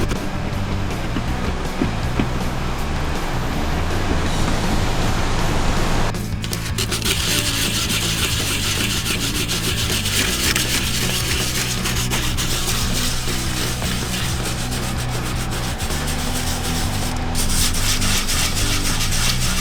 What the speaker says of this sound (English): sand down rest of the glue